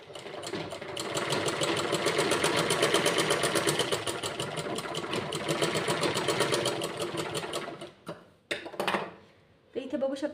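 Sewing machine stitching a tuck on a four-tuck blouse, a steady, fast mechanical whirr for about eight seconds, then stopping and giving a few short bursts.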